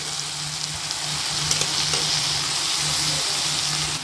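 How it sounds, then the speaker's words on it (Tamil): Curry leaves sauté in hot oil with softened tomato and onion in a pan for a breakfast dish, giving a steady, close, continuous sizzle and crackle with no talking. "இதை இப்போ ரொம்ப வதக்க வேணாம், லைட்டாக ஒரு வதக்குனா போதும்"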